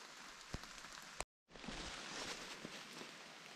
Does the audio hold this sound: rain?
yes